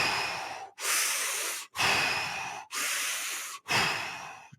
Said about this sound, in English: just that breathing like that, you will start to feel the tingling